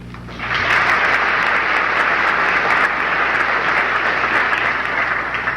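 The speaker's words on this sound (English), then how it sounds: "I think they deserve a round of applause also" A room full of people bursts into a round of applause for the executive at a commerce class reunion, starting suddenly and sustaining dense, even clapping to the end.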